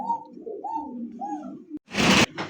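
Lahori pigeons, one red and one blue-barred, coo in a series of soft, low, rolling calls, fairly close, followed by a brief burst of rustling or wing-flapping noise at the end.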